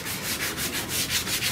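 Hand sanding filler on a VW Bus body with a 180 grit pad, steady close rhythmic rasping strokes repeating about every fifth of a second, alone with no talk.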